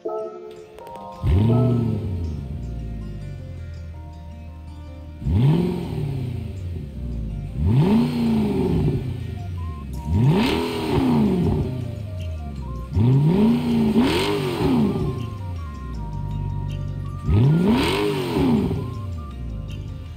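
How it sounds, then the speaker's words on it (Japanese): A Lamborghini Urus in Gran Turismo 7 revs its engine in five or six loud, deep bursts, each climbing and falling in pitch, with brief pauses between them. "それではまずウルスのエンジン音を聞いてみたいと思います。"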